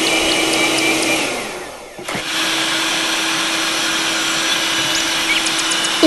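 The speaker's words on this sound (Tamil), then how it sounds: "எடுத்துட்டு அத ஒரு பவுல்ல ட்ரான்ஸ்ஃபர் பண்ணிட்டு பீட்ட வெச்சி நல்லா பீட் பண்ணிக்கோங்க" Electric hand beater whipping twelve eggs in a bowl for Sri Lankan watalappan, a loud steady motor whine that briefly dips and restarts, then runs continuously.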